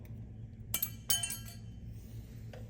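Small metal brake pad hardware clips on a Hyundai Kona rear brake are popped off, giving two or three sharp metallic clicks and clinks in a quiet space.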